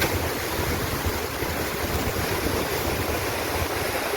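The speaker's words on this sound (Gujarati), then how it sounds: "આ બધું પાણી અત્યારે ભાદર ડેમમાં જાય છે" River water rushing steadily toward the Bhadar dam, a broad, continuous roar of flowing water with gusty wind noise on the microphone and no speech.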